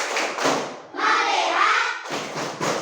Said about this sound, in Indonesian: Tepuk fokus.